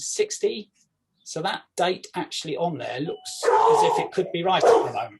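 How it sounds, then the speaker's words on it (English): A dog barks and yips in the background while someone talks continuously in the foreground, the barks fainter and partly masked by the speech. "Sorry, that's my dog in the background."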